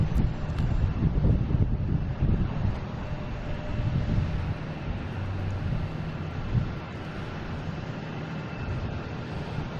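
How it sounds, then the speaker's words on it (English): An Airbus A321 arriving at Boston Logan International Airport from Punta Cana, heard as a continuous broad low roar of jet engines mixed with gusty wind buffeting the microphone, steady throughout. "this was flight 1296 coming in from Punta Cana, an A321."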